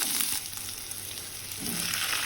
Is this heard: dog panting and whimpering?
no